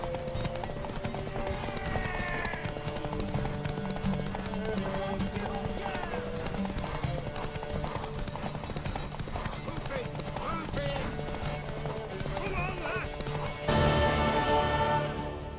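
Horse galloping in The Witcher 3, a steady rhythmic clip-clop of hooves running under game music and voices talking, with a neigh among the effects.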